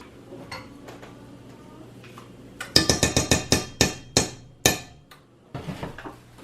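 Knife chopping through a rutabaga on a cutting board for beef stew, a run of sharp, loud, evenly spaced thuds in quick succession after a quieter start, with no talk.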